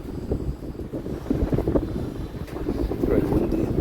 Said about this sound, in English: Very windy here, I don't want to lose my hat